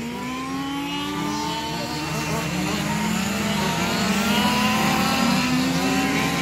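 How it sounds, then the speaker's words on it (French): Race car number 11 drones past on the track during a 12-hour Yankee endurance race at Saint Affrique, its engine a steady loud roar with shifting pitch, blending with other cars circulating continuously. "De la voiture qui passe là, hein, la 11."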